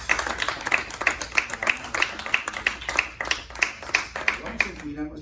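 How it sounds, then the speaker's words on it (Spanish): A Spanish-speaking church congregation claps in steady rhythmic unison in praise to the Lord, sharp regular beats under a loud, lively room, tapering off at the end. "denle un fuerte aplauso al Señor"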